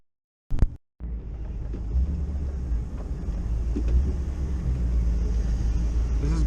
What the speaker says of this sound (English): if you can't rev match a truck like this